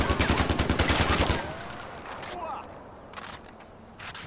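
Rapid automatic gunfire in the video game Far Cry 4, a fast burst of shots for about a second and a half, followed by scattered single shots and quieter game sounds.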